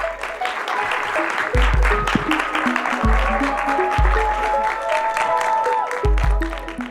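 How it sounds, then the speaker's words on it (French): A studio audience on a French talk show applauds a guest, steady dense clapping heard under music with a plucked melody and a pulsing bass. "vous pouvez l'applaudir."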